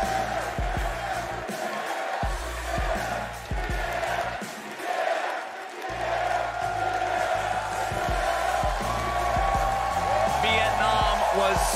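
A large crowd at a Worlds 2022 League of Legends esports arena cheers and roars throughout, a sustained wall of voices with thumping bass beats and music underneath.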